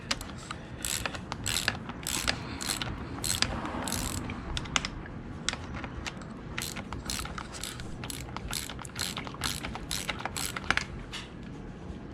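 A ratchet works loose stuck fork bolts on a Honda CRF50/XR50 mini bike in rapid, close bursts of mechanical clicking, repeated throughout with short pauses and no speech.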